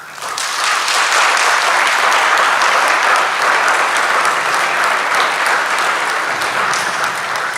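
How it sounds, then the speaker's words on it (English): Sustained loud applause from a crowd at an engineering graduation ceremony, building quickly and holding as a dense even clatter of many hands, with no talk over it. "we're going to give them a round of applause."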